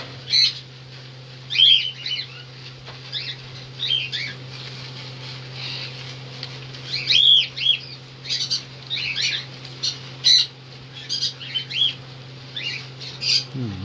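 Several cockatiels in a home aviary give repeated harsh squawks and chirps, loud and irregular, over a steady low hum, with no talking.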